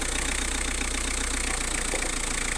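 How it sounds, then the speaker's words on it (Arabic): A 2007 Citroën Berlingo engine idles steadily up close, a low, even rumble with a faint rhythmic knock, and no one talking. "سمعوا تبارك الله النغمه ديال الموتور"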